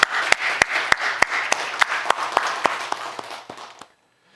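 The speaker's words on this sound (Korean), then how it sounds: "우리 모두를 향해서 우리 격려의 박수 한번 드리겠습니다" A church congregation at a Friday worship service gives a round of encouraging applause, heard as loud, sharp, evenly spaced claps in unison, about a dozen strong beats that gradually soften before stopping abruptly, leaving near silence.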